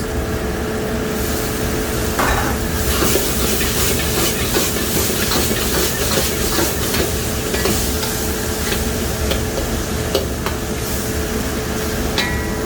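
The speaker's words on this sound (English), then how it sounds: "You're gonna saute tomatoes also 1 to 10 minutes." Tomatoes sautéing in a pan for turai (sponge gourd) sabzi, giving a steady close sizzle broken by scraping and stirring clatters, with no talk.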